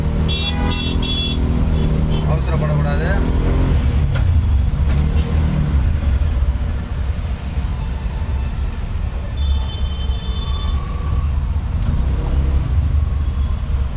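Busy Chennai road traffic heard from inside a slow-moving load auto, with a steady low engine and road rumble, passing vehicles and occasional horn toots, and someone speaking briefly at the start.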